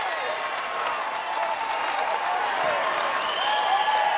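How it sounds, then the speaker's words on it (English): Basketball crowd at Gill Coliseum erupting in loud, sustained cheering and applause after a late winning play, a dense roar of clapping and yelling filling the arena with a commentator talking over it. "And the crowd here at Gill goes nuts."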